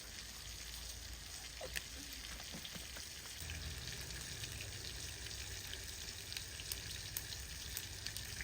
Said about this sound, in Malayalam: എണ്ണ ചൂടായി കുറച്ച് കടുക് ഇട്ട്